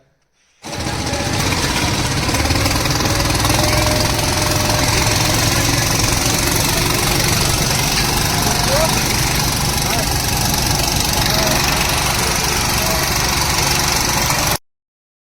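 A loud, continuous motorboat engine drones and rattles close by on the river at Omkareshwar, starting abruptly and cutting off near the end, with wind noise over it.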